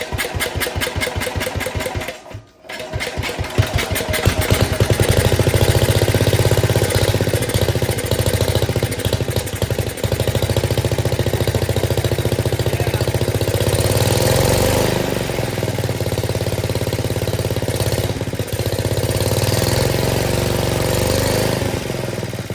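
Wheel Horse 702 lawn tractor's small engine running steadily after starting, a loud rapid mechanical chugging with a brief dip early on, then settling into a continuous even idle.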